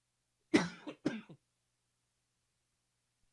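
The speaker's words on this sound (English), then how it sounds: "my allergies are acting up and I'm coughing here" A speaker suffering from allergies coughs twice in quick succession, close and fairly loud, followed by silence.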